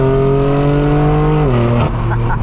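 A straight-piped BMW M4 F82 pulls hard under acceleration, its loud exhaust droning in a rising steady tone before dropping sharply at a shift and continuing, heard up close from inside the car.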